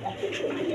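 A pair of imported pigeons coos softly at close range, a short, low, murmuring call.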